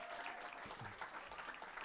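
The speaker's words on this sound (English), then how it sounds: "Let's give them a hand of applause" A short round of applause at a jazz education gala in Nashville welcomes partners from two middle schools, fairly faint, dense clapping with a few voices mixed in.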